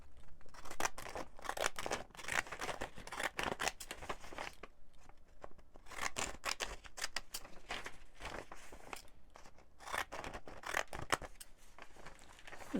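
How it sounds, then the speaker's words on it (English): Decal edge scissors snip white paper borders off a folded sheet in a quick run of close, crisp cuts with brief pauses, no talking. "I'm going to take my decal edge scissors."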